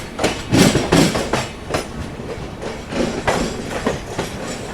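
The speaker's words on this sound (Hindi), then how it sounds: "जैसे यहाँ पे हमें एक और क्रॉसिंग मिल रही है बीदर एक्सप्रेस के साथ।" An Intercity Express on the Mumbai–Pune line through Khandala Ghat crossing the Bidar Express: a loud, close rushing roar with repeated rhythmic clickety-clack wheel beats as the passing train streams by, with no voices.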